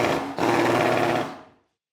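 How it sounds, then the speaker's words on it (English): A power drill runs at a steady, loud whine for about a second and a half in an office-like setting, with a brief dip near the start before it cuts out and winds down to silence. "and somewhere, a power drill"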